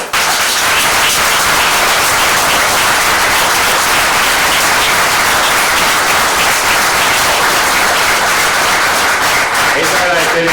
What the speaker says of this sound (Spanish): Un aplauso para los 2 porque se lo merecen de sobra